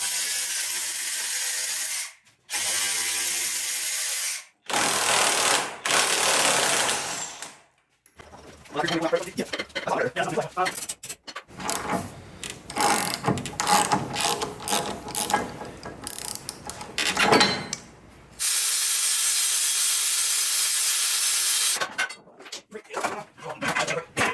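A ratchet wrench loosens drive shaft bolts on a Jeep Cherokee XJ during a build with the front Dana 30 axle removed, in loud, close bursts of rapid clicking separated by brief pauses and clanks.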